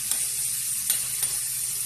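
Tomatoes, carrots and chayote sauté in a pan with a constant high sizzle. A few light scraping clicks of stirring sound close by, and there is no talk.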